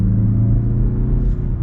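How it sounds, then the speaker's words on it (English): A 2022 Mazda CX-30 Premium Plus Turbo in sport mode pulls away at partial throttle, a steady low engine drone and road rumble heard from inside the cabin, without talking. "So we're actually getting up and moving now, and get partial throttle here."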